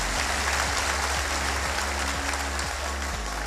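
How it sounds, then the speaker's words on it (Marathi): An audience claps at a Marathi heart-health talk to welcome the doctors, giving a dense, steady patter of many hands that carries on evenly for a few seconds, with no voices over it. "यांचं स्वागत व आभार आपण सर्व टाळ्या वाजवून करूया"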